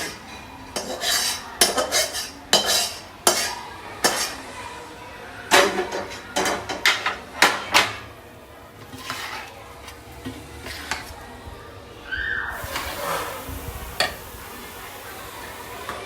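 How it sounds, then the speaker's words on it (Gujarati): Churma being stirred and fried with ghee and jaggery for churma laddu, metal spoon scraping and clinking against the pan in irregular bursts over a faint sizzle, close by with no talking. "ચૂરમાની અંદર આપણે ઘી અને ગોળનું મિક્સ થઈ એડ કરી દઈશું અને અંદર જ ફ્રાય થાય"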